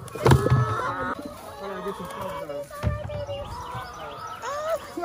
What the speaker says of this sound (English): This the chicken coop, y'all.